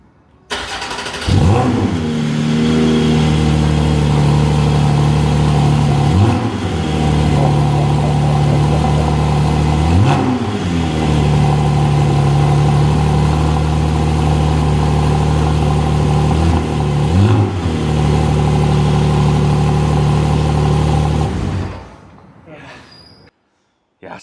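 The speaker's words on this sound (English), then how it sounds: "I'm being forced to do a cold start. Well, not really. Sports exhaust on." A Porsche with sports exhaust on fires up from cold with a sharp bark, then holds a loud, rumbling high idle punctuated by several throttle blips before cutting off; brief talk appears over it.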